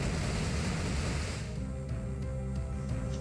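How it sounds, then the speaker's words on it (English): Water Spout, a water attack in Pokemon Omega Ruby and Alpha Sapphire, gushes as a loud broad rushing surge that cuts off after about a second and a half into a quieter tonal game sound. "I'm gonna go for Water Spout because we're in the green"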